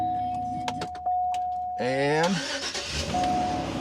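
A car engine on a Scosche 2000A jump starter cranks briefly and catches, then settles into a close idle. A chime sounds before and after, with keys jangling and a voice speaking.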